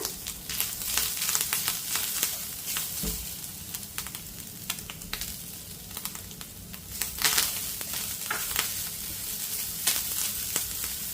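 Grated coconut with dry fruits is sautéed in a pan as modak filling, a continuous close sizzle with frequent scraping and stirring clatter throughout.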